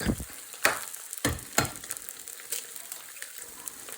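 Eggs sizzle as they hit sesame oil in a hot pan, each landing giving a sharp crackling burst that settles into a steady, close frying hiss.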